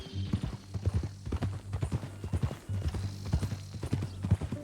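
Horse hooves clip-clop at a steady walking pace in Red Dead Redemption 2, close and clear with an even rhythm, a low rumble beneath and faint voices in the background.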